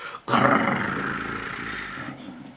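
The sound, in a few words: wolf growling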